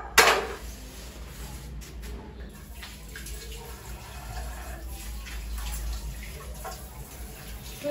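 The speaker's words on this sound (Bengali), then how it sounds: "চায়ের বাসন কটা ধুয়ে নিই।" Tea dishes are washed under a running tap in a kitchen sink. Water splashes and streams steadily, utensils clink now and then, and a sharp clatter comes at the start, close and moderately loud.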